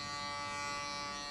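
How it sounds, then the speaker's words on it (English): An electric shaver buzzes steadily and continuously at close range while shaving hair at a barbershop during a mid taper fade haircut, with no talking. "you get your shaver, and you shave just before the end of the"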